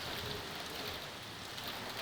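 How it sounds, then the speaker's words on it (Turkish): Steady rain patters down on parked cars outside during a German summer downpour, a dense, continuous hiss of drops striking metal and glass with no voices, even and unbroken throughout. "yağmur sesini, arabalara düşen yağmur damlalarının sesini duyacaksınız."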